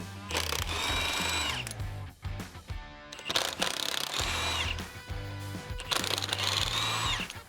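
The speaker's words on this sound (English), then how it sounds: "I'll grab the impact gun" An impact gun fires in three separate loud, close bursts of rapid rattling hammering as it removes the wheel from a 1996 Chevrolet C-1500 pickup truck, with short pauses between the bursts.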